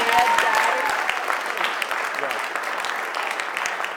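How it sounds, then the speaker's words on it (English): Wedding guests applaud the maid of honor at a reception, a dense, steady round of clapping that stays loud for the whole stretch with no voices above it. "Let's have a round of applause for the maid of honor tonight."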